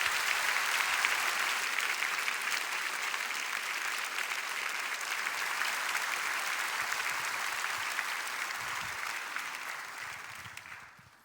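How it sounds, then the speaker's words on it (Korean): A church congregation at a prayer service applauds to welcome a guest pastor, a dense, steady wash of clapping that holds for about ten seconds before fading out at the end. "강사님 나오실 때에 우리 힘찬 박수로 환영하며 맞이하겠습니다"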